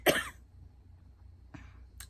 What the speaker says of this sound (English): I'm going to be coughing on and off.